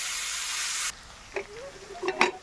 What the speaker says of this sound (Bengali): ডালের সিটিটা বের করে নিই এখনো অনেক সিটি রয়েছে ভেতরে